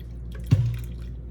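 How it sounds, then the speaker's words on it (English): Chile juice poured into a crockpot while making birria gives one short liquid splash and gurgle, a brief trickle that fades quickly over a low steady background hum. "So I'm gonna go ahead and pour more of the juice"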